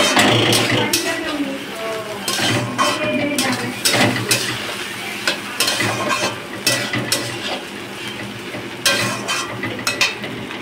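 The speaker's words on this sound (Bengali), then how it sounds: "জিরে তেজপাতা ফোড়ন দিয়ে দিয়েছি। ডালটা ভালো করে কষিয়ে মশলা করা আছে, মশলাটা দেব।" Dal frying in ghee with a cumin and bay leaf tempering, a steady sizzle under repeated stirring and scraping of a spoon against the pan, close and fairly loud.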